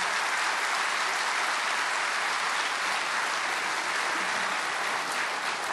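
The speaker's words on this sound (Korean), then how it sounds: "박수로 환영하시겠습니다." Steady, even applause from a congregation at a Korean prayer meeting for peaceful reunification, welcoming a speaker with a continuous wash of clapping at moderate distance.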